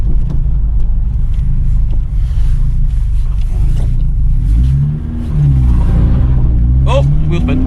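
A 1986 Ford Capri 2.0 with a Pinto engine spins its wheels, a loud, close engine rumble with a brief dip and then rising revs, and a short squeal near the end.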